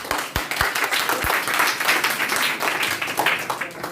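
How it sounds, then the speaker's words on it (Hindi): Students in a classroom clap together after a pupil answers a Hindi grammar question, a brief burst of handclaps with a few sharp low thumps near the start, steady and close, with no talk over it. "वाह, ताली बजाइए"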